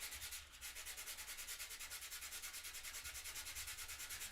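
Hand sanding with 120 grit sandpaper gives off a quick, regular back-and-forth rasp, each stroke close and distinct in a steady rhythm that continues throughout without any talk.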